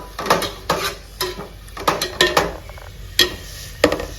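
Fenugreek leaves sautéed with softened onion in a pan, repeated rhythmic scrapes and clatters of a spatula over a soft sizzle, close and fairly loud, no talking.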